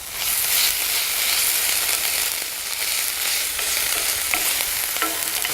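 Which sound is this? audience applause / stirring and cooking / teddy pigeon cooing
stirring and cooking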